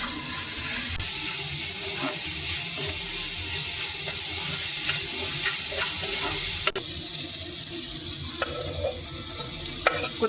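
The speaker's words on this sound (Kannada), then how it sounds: "ಸಾಲ್ಟ್, ಸ್ವಲ್ಪ ಫ್ರೈ ಆಗಲಿಕ್ಕೆ ಬಿಡಬೇಕು." Capsicum frying with salt in a pan on the stove, a steady close sizzle with occasional stirring scrapes and clicks running continuously throughout.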